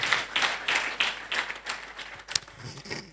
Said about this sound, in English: Can we join our hands together and clap?